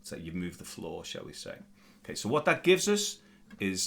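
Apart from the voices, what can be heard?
No distinct noise like a dog, phone or traffic.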